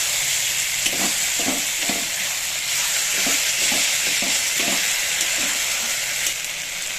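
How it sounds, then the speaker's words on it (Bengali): Spices fry in oil in a pan for a red lentil curry with eggs, giving a steady, close sizzle with soft stirring scrapes throughout and no talking. "দেখুন মশলাটা ভাজতে ভাজতে মশলা দিয়ে তেল ছেড়ে গেছে।"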